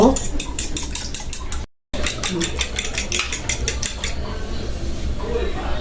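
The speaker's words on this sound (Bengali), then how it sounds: "আমি একটু 1 চামচ লবণ দিয়ে দিতেছি দুধে আর ডিমে, মিক্স করব" A spoon clinking rapidly against a bowl while whisking salt into milk and eggs, a fast metallic rhythmic tapping that pauses briefly then continues, fading toward the end.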